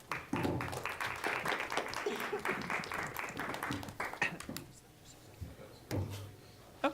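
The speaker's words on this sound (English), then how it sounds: "so we can just clap for them" A small student meeting audience clapping together, a burst of sharp, fairly close claps that thins out and fades to near quiet, with one last clap near the end.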